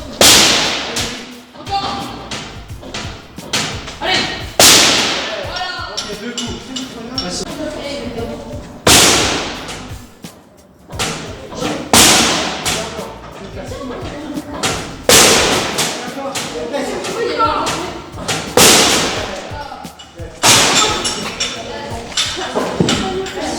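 During gendarmerie training, a battering ram strikes a door repeatedly, giving loud, heavy thuds every few seconds. People talk between the blows.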